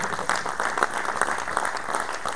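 An audience at a young farmers' general assembly in Berric claps for a report's writer: dense, even applause throughout, close and fairly loud.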